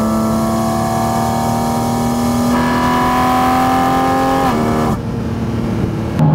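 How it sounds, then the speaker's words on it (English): Porsche GT4 RS engine at full throttle heard from inside the cabin, a loud, continuous high-pitched intake howl rising steadily in pitch, then a brief dip at a gear change before climbing again. "it is the sound of the car inducting air into the engine"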